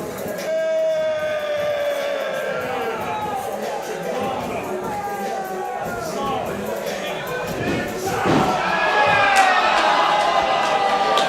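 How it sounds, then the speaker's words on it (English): An unhappy wrestling crowd keeps up a continuous murmur and scattered shouting, rising louder near the end, while commentators talk over it. "This crowd is not happy"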